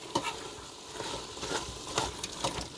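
Beef bouillon is stirred into meat sauteing in an Instant Pot, a soft sizzle broken by repeated scraping strokes of a spoon, fairly quiet and with no talking.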